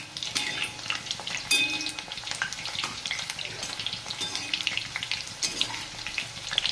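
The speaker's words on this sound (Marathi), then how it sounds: "तर आपण आता याला हलवून घेऊ हे बघा असे उलटे पालटे करून हलवायचे" Onion bhaji pieces fry in oil at close range, bubbling and crackling steadily while a utensil stirs and turns them with repeated clinks and scrapes.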